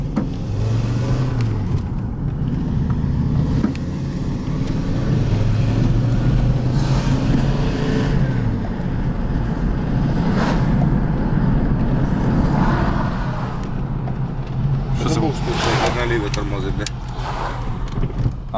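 A VW T5 van's engine runs steadily while driving, a continuous low rumble with road noise throughout, as people talk over it inside the cabin.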